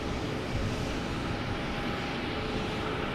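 A JetBlue Airbus A220 jet at Boston Logan at night, a steady, even engine rumble heard from some distance, with no voices over it.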